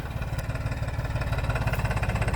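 An old tractor engine chugs steadily at idle, its low rhythmic thumping loud and close with no voices.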